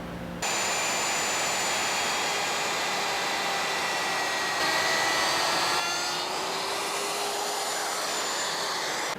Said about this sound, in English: I'm going to use a router with a 1/2 inch router bit and a 3/4 inch collar